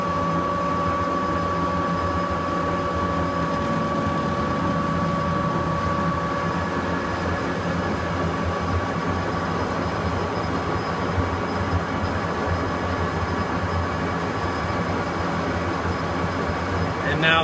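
A metal lathe set up for thread cutting 1/2-12 jointer bolts, compound rest at 15 degrees, runs with a steady mechanical hum and whine that stays even throughout.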